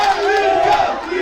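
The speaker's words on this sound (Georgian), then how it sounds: "გესმით შეძახილები გულშემატკივრების" Football fans at a league final match roar and shout together in a sustained, dense crowd chant, loud and close, without pause.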